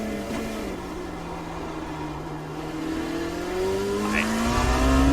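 The Dallara P217 LMP2 prototype race car in iRacing, on a warm-up lap at Circuit of the Americas, holds a steady engine drone whose pitch slowly rises as it accelerates toward the end.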